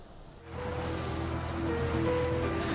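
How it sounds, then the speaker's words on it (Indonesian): Rough seas with waves about four meters high in extreme weather off Kolaka, Southeast Sulawesi, heard as a steady, broad wash of surf and wind that swells in after a brief quieter start. "Cuaca ekstrim di perairan Laut Kolaka, Sulawesi Tenggara menyebabkan ketinggian ombak mencapai 4 meter."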